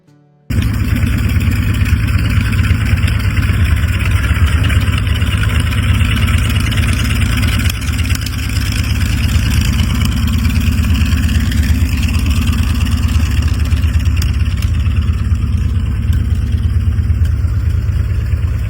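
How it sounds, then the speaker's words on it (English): A professionally rebuilt 383 CI stroker V8 with Holley electronic fuel injection, Dart Pro 1 aluminum heads, Callie's Compstar crank and performance cam, idling steadily with a deep, loud, continuous rumble throughout. "comes from a professionally rebuilt 383 CI Stroker V8 equipped with a Holley electronic fuel injection system"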